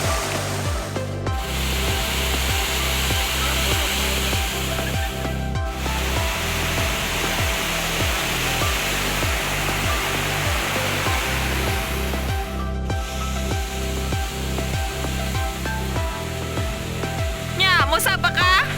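Miyaya Falls in Maragusan, Compostela Valley, Philippines, pours as a loud, steady broadband roar of rushing water, continuous throughout with a few brief dropouts.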